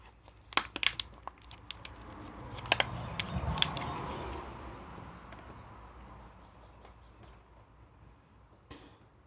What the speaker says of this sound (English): We're gonna take it out from the box.